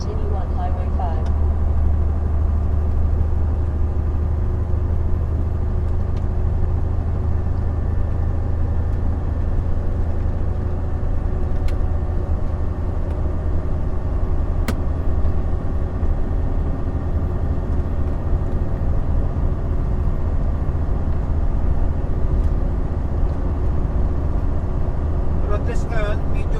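A vehicle cruises downhill on Highway 5 through the Rocky Mountains of B.C., a steady low engine and road rumble from inside the cabin with a voice talking over it throughout.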